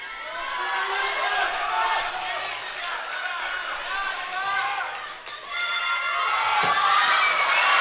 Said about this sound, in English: Crowd delighted to watch him perform